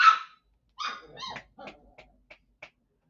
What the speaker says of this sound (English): oh my gosh, the dogs